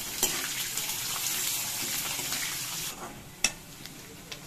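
Onions sizzling in hot tempering oil for a South Indian dosa chutney, a soft, fairly quiet crackle and hiss with a few sharper pops and clinks near the end.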